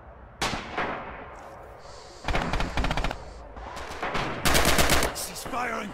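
Machine gun fire in the World War II shooter Red Orchestra 2 during a bridge defense, sharp separate shots and then rapid automatic bursts, loud and close, with battlefield noise between them.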